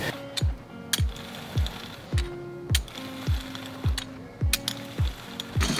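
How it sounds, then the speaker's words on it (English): A spiked roller puncturing holes in putting green turf gives repeated clicking, ratcheting rattles, roughly two per second in a steady mechanical rhythm, heard close and alone. "I'm going to run this over it to kind of puncture some holes in the ground"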